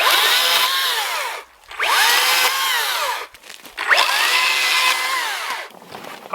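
A saw cuts firewood at a camp in three long, loud passes, each a sustained rasping drone separated by short pauses, with no talking.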